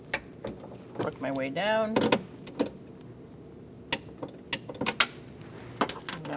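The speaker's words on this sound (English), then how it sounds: "I'm going to torque all our bolts to 80 inch-pounds, starting here." A torque wrench tightens the window regulator bolts on a 2004-2012 Chevrolet Colorado, producing sharp, separate metallic clicks and ratchet taps spread across the stretch. Someone talks briefly near the start.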